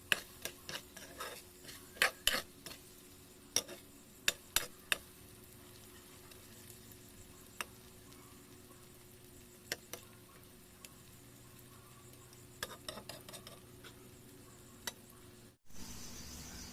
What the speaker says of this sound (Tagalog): nagluto ko ng sayote na may itlog